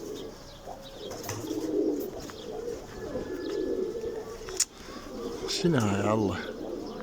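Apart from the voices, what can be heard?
pigeons cooing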